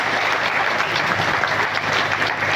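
Steady, loud applause from a seated crowd at an open-air farmers' gathering in Kutch, honouring the women present, sustained evenly throughout with no break.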